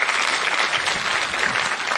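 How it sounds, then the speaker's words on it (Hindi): A hall audience at a state-level Hindi Day ceremony at Sawai Man Singh Medical College claps loudly and steadily, a dense, even wash of hands filling the whole stretch without a pause. "जोरदार तालियां।"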